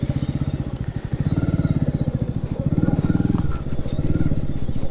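A motorcycle engine runs on a mountain road toward Gangotri in Uttarakhand, thumping in a fast, even pulse up close. The throb swells and eases slightly as it goes.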